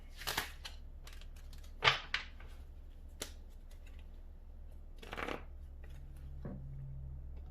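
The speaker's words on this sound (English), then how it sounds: "let's go ahead and pull some tarot" Tarot cards being shuffled in a quiet room, with a few soft riffling bursts and light taps spread across the stretch, faint and close, over steady low background hum, no talking.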